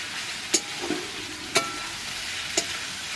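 Onions frying in a pan for mutton curry give a soft, steady sizzle, broken by three sharp, evenly spaced clicks of a utensil against the pan, close and without talk.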